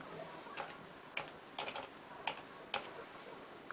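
Sparse, light keystrokes on a computer keyboard, a handful of separate clicks spread irregularly over a few seconds, fairly faint against a quiet room background.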